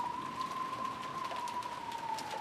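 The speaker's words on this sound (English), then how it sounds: "It's raining again." Rain in the Umineko visual novel, a soft steady patter of drops on a surface with a faint sustained tone running beneath, quiet and even, no speech.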